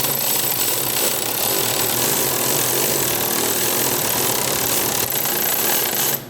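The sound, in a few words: electric ratchet spinning car engine oil pump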